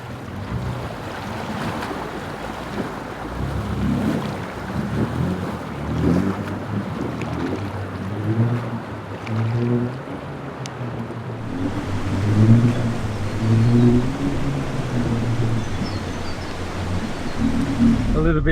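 A 4x4 crossing a deep water track in Sundown National Park, Queensland, its engine revving and roaring under steady rushing water and wind noise, with voices now and then.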